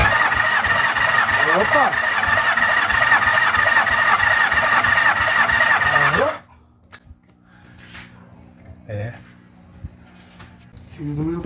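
A car engine, a Fiat-type Galo, runs loud and steady during a cylinder 4 test, then cuts off abruptly partway through, leaving quiet workshop sounds and a short exclamation.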